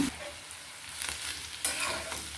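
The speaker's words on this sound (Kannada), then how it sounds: "ಈಗ ಚೆನ್ನಾಗಿ ಫ್ರೈ ಮಾಡೋಣ" Potato filling for masala dosa frying in a pan while being stirred, a steady close sizzle with a few scraping strokes of a spatula against the pan.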